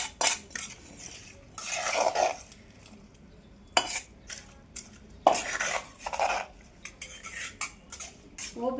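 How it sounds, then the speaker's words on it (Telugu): A vegetable chutney stirred after adding a tempering of fried seeds, with bursts of metal spoon scraping and clanking against the pan, separated by quieter pauses. "పోపు వేసిన తర్వాత ఊరికే కలిపేస్తాను."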